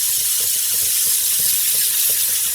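Water hisses in a steady spray onto a flat lap grinding wheel in an intarsia workshop setup, a broad continuous wash close up with faint rhythmic ticks underneath.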